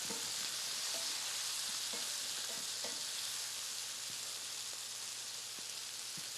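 Red pepper flakes sizzle steadily in a pan while being stirred, a dense continuous frying hiss with faint scraping ticks of the utensil, close and alone without voices.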